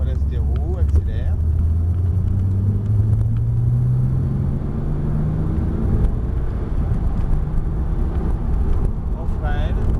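A Porsche laps the Montlhéry race circuit, its engine droning loudly and steadily with rising and falling pitch as it brakes and accelerates, under constant wind and road rumble while a voice gives instructions.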